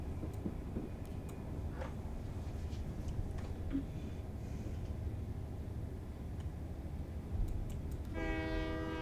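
A locomotive horn in the Train Life railway simulator video game sounds one short, bright tonal blast near the end, after a stretch of low rumbling rail ambience.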